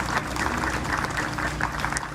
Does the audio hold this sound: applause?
yes